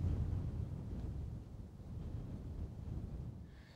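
Wind blows across a microphone outdoors at a bird reserve, giving low, buffeting rumbles that swell and ease unevenly, fairly quiet overall.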